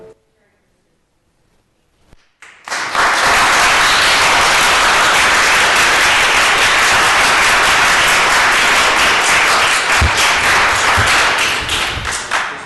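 After a couple of seconds of near silence, an audience at a Land Use and Transportation Committee meeting breaks into loud, sustained applause that carries on for about ten seconds.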